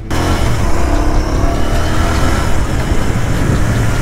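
A Royal Enfield Continental GT 650 motorcycle engine runs steadily while being ridden, a loud, continuous close-up drone with dense low-frequency throb that holds for the whole stretch, with no talk.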